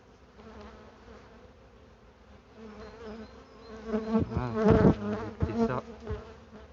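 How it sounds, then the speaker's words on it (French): Carpatica honeybees, a small and gentle strain, buzz steadily around an open hive, a dense droning swarm that swells louder toward the middle and end, with a brief spoken remark mixed in. "Ça c'est les Carpatica. Elles sont un peu plus petites, petites abeilles."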